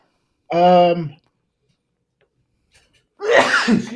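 A single sharp sneeze bursts out, followed by a pause and then a voice speaking.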